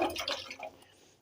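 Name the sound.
sliced potatoes with water poured into a wok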